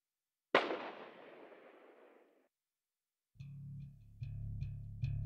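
A single sharp rifle shot cracks loudly in the video game Grisaia Phantom Trigger and decays over about two seconds, followed after a pause by a sustained low hum with small clicks.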